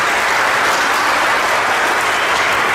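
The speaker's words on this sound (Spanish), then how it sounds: "Un aplauso pues para el hermano, fuerte que se escuche el aplauso." Loud, thick applause from a church congregation, a continuous roar of many hands clapping hard and close with no voices rising above it.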